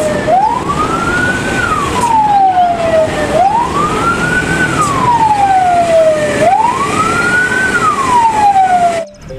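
A toy tow truck plays an electronic siren that rises and falls in three looping wails, loud and close, over a faint hiss of background noise.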